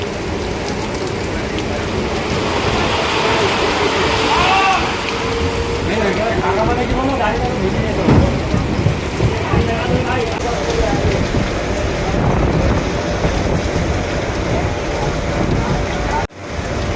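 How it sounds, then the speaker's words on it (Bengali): Heavy rain pours outside a Bandel–Naihati local train stopped at a station, a steady dense hiss of drops with faint voices murmuring underneath throughout. "বাইরে প্রচুর বৃষ্টি পড়ছে"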